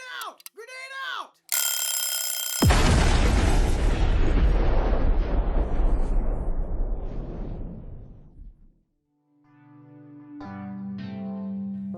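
Grenade explosion in a radio drama, a sudden heavy boom with a long rumbling decay after a brief ringing tone, loud and close, followed by a low musical drone.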